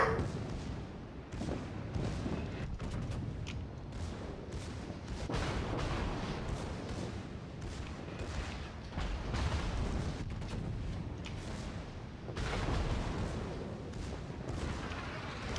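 A tank firing high-explosive shells in a tank video game, with muffled booms and rumbling battle noise running steadily at a low level.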